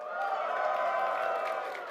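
An audience at a convention cheers and claps on cue from a host, a short sustained burst of crowd noise with a tonal, voice-heavy roar that holds steady and then tapers slightly.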